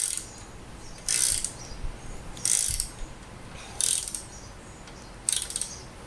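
A ratchet wrench clicks in four evenly spaced bursts of rapid pawl clatter, close and distinct, while bolts are worked on a Toyota Tacoma bumper, with quiet pauses in between.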